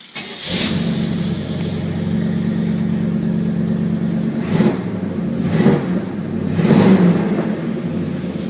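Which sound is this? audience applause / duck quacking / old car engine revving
old car engine revving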